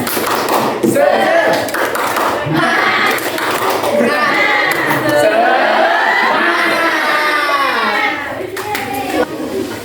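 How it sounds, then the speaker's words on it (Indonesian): A primary school class of second and third graders does a rhythmic spirit clap together, a dense burst of hand claps and group chanting filling the room throughout, loud and steady with voices shouting along. "kita tepuk semangat terlebih dahulu ya"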